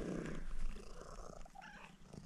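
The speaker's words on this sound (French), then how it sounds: "Ça ronronne à max ici." A cat purring loudly, a close, low rumbling purr strongest at the start, then softer with faint rustling and a short thump at the end.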